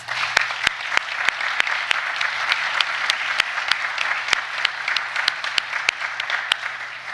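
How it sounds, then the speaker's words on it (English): Law school graduation audience applauding in a hall, a steady rush of many hands punctuated by loud, distinct claps close by, with a low hum underneath throughout. "Let's give them a round of applause."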